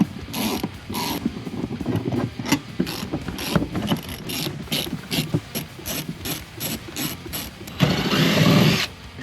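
A hand ratchet loosens car seat bolts while a car is being gutted for figure 8 racing, steady rapid clicking strokes in quick repeated bursts, close up, followed by a short louder scraping rattle at the end.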